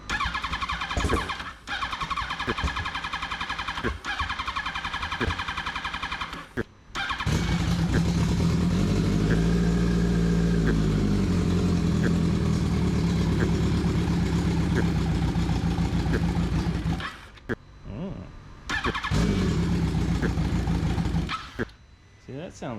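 A turbocharged Yamaha R1 motorcycle engine cranks, fires and settles into a loud, uneven idle close by, cutting out and restarting briefly, with a voice talking over parts of it.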